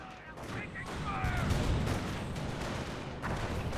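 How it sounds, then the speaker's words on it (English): Mortar fire in Company of Heroes, a Second World War strategy game, with booms and rattling gunfire massed together in a short, busy battle din. "Mortar getting some close range shots there on these forces."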